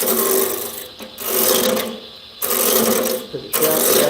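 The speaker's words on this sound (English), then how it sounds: "Let's take some sandpaper and" Sandpaper roughing up a cherry wood spice jar, a loud close rasping scrub in three long strokes with short breaks between them.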